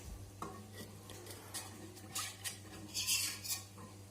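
Spoon stirring whole milk in a pan while measuring milk for a flamiche, faint close scraping and clinking strokes in a quick irregular rhythm over a low steady hum.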